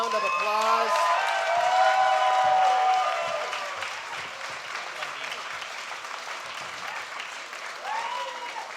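Audience applause for debate panelists at a Proposition 1 debate at The North Door in Austin, Texas: steady, dense clapping that swells over the first few seconds, then eases to a softer sustained patter.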